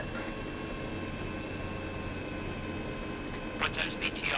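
Steady droning rotor and engine noise of a helicopter in the game Arma fills the clip, constant and fairly loud, with a few brief higher bursts near the end.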